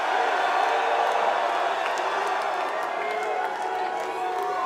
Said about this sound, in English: the crowd giving you a wall of noise for both of these men